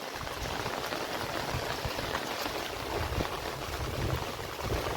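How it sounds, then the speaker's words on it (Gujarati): Steady, dense rain pours continuously at close range, mixed with a low gusty rush of strong wind and no voices. "વરસાદ ચાલુ જ છે કારણે પવન પણ જોરદાર છે"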